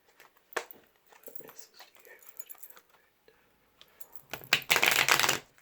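Close, crisp riffling and flapping of tarot cards being shuffled in short bursts, with soft whispering between them and a louder flurry at the end.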